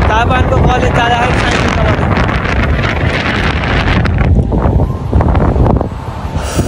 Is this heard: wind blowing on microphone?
yes